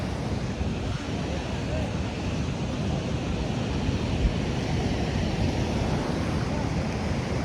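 A flooding river in Kullu-Manali rushes with a steady, dense roar that never lets up, mixed with wind noise on the microphone and no clear voices.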